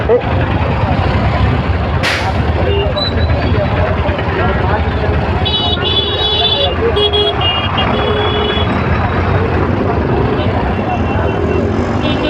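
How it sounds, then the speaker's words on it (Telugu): Busy road traffic rumbles steadily, with engine drone and a few vehicle horn toots midway, while a person talks close by over the noise. "ఎప్పుడు చూడు ట్రాఫికే."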